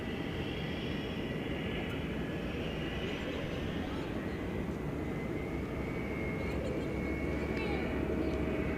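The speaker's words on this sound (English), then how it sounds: "And there is the tri-jet." A tri-jet airliner taxis at DFW Airport at night, its steady broadband engine roar and whine filling the scene at a constant distance, with a faint talking voice mixed in.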